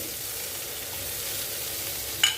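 Onions sauté in a pan with a steady, even sizzle and a faint stir near the end. The sound is close and continuous, with no talking.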